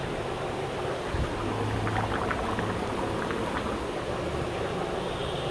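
Water bubbling at a steady boil in a pot of potatoes on a gas stove, a Bengali broken-rice dish in progress; a continuous dense, churning gurgle at moderate level throughout, with no talk.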